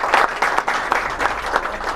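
Audience clapping at a library awareness gathering, a brief burst of quick, overlapping hand claps at close range, fairly steady throughout.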